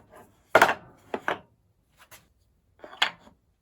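Wooden wedges knocked and pushed back into a planer sled to hold small blocks: a few close, sharp wooden clacks and rubbing taps in short clusters, separated by near silence.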